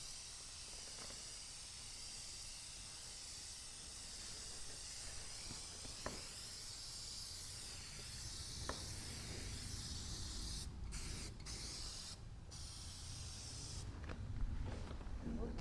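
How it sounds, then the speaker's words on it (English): A clear matte spray sealer is applied to a chippy painted furniture piece, giving a steady aerosol hiss that continues throughout with a few short pauses near the end, faint and unbroken by talk. "So we're just going to use the clear matte spray."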